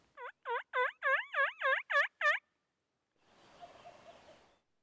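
A wild turkey gobbling close by during a hunt, a rapid burst of about seven loud, rolling gobble notes in quick succession, followed by a faint rustling scuffle after a short pause.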